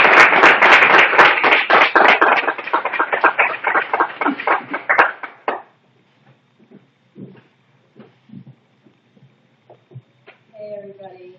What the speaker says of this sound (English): let's show what we're all about by clapping and doing our best to give it up for Jackson Rodriguez